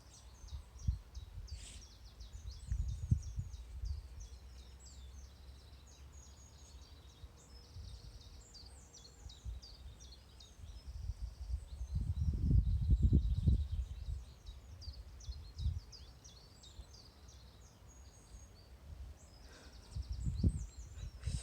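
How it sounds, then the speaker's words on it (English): Outdoors, small birds chirp and trill in a quick, high string of calls that runs faintly throughout, while low thumps and rustling noises swell up close at a few points. "listen to the birds."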